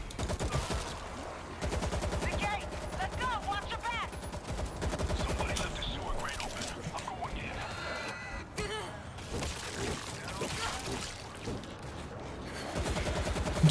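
Dense, continuous automatic gunfire rattles through a New York level of the zombie shooter World War Z, with heavy volleys of shots and occasional voices underneath.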